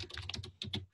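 Computer keyboard being typed on during a library database search session, a quick run of soft key clicks close by, pausing briefly then resuming, fairly quiet.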